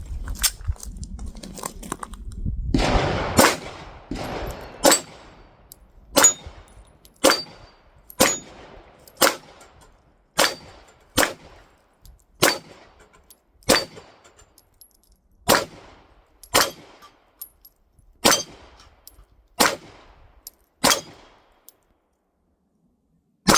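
A Beretta APX pistol fires 124 grain NATO ammunition at a range, sharp shots cracking one by one in a steady, evenly spaced string of about fifteen, loud and close, after some early handling noise.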